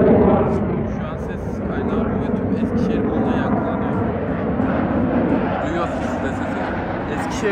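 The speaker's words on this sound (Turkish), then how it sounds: "Eskişehir'de ana jet üssü olduğu için şehirde sürekli bu sesi duymanız mümkün." Military jet aircraft flying over Eskişehir, home to a main jet air base, roars steadily overhead as a broad, continuous rumble that swells and holds. Some faint background activity sits underneath.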